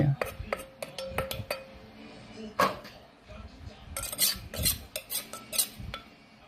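Dishes and utensils clink several times in separate sharp bursts while bamboo shoot soup with sesame is plated in a home kitchen, with a brief louder knock partway through.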